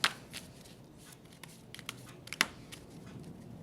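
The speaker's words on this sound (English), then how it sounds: "I'm taking so long to shuffle" Close, quiet riffling of a tarot deck being shuffled, with a couple of sharper snaps and soft papery rustles between.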